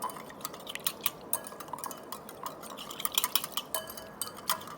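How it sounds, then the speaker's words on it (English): Rapid irregular clinks and scrapes of a utensil whisking a curd, salt and water marinade in a bowl, close and fairly quiet, with no talking. "whisk it well"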